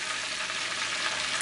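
Chicken fries in a cast iron skillet, a dense continuous sizzle and crackle of hot oil, loud and close, steady throughout with no other sounds.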